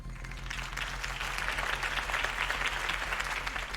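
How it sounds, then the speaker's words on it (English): A video game crowd, in Telltale's Batman, claps and cheers continuously, the applause swelling after a moment and staying dense and steady over a low background hum. "could have heard that applause"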